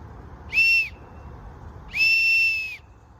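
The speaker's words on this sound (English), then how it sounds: "survival whistle, or whistle with a key ring." Two shrill blasts from a pocket survival whistle, a short one followed by a longer one, loud and close against a quiet background.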